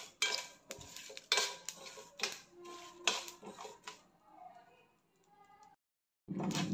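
A spatula scrapes and clinks against a pan while dal, sesame seeds, chilies, cloves, cinnamon and black pepper dry-roast, in quick clattering bursts that fade to a quieter stir before a short pause.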